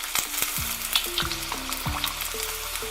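Kozhikode kannu vecha pathiri, a layered flatbread, fries in hot oil with a close, steady bubbling sizzle. Crackles and pops come and go throughout, with no voices.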